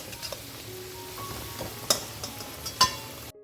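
Potatoes frying in hot oil in a mutton potato curry preparation, with a steady, moderate sizzle, occasional scraping stirs and a couple of sharp metallic clinks of a utensil against the pan.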